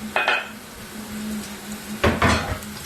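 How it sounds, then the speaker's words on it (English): Garlic, chilies and onion sauté in olive oil in a pan, a low sizzle under a steady hum, with two bursts of clattering utensil-on-pan stirring near the start and end. "we're just going to saute these for a couple of minutes"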